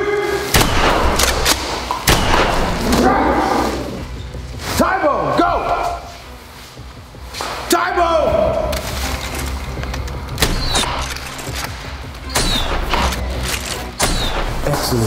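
Toy Nerf guns firing during a dinosaur-themed first-person battle game, with repeated sharp pops and thumps mixed among loud, continuous shouting and excited talk.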